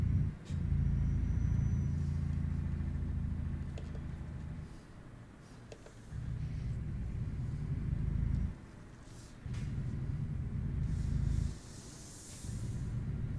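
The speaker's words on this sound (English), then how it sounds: "Got a lovely sound on it, this truck, isn't it?" A truck engine in a trucking video game played on a gaming wheel drones steadily, its low rumble swelling and dropping in repeated throttle surges, alone without talk.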